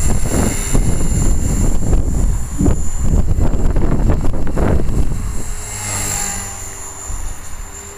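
A 450-size RC model helicopter flying outdoors in wind, its steady whining rotor and motor drone loud and close throughout, with gusts buffeting the microphone.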